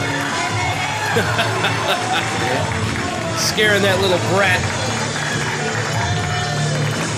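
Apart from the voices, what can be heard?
crowd cheering for wrestler at wrestling event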